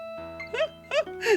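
Bright, synthetic MIDI-like chiptune music from a Donkey Kong fangame, Kiddy Kong's Showtime demo, with tinkly melodic notes over a sustained tone, a few short phrases rising and falling.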